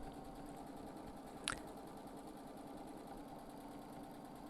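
A sewing machine running steadily for free motion quilting, a fast, even mechanical whirr held close and fairly quiet, with one brief sharp click partway through and no talk.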